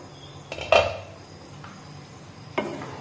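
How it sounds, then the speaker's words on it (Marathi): A spoon stirs mango rava sheera in a kadhai, making a few distinct metallic clinks and scrapes against the pan over a faint background hiss. "हा रवा पुन्हा एकदा व्यवस्थित हलवून घेऊया"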